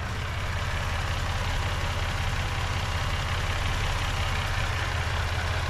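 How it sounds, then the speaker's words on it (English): Idling 2019 Ford Expedition XLT 4x4 with its EcoBoost engine, a steady close, low rumbling hum with an even rhythmic pulse and no talking. "And that EcoBoost engine sounds good"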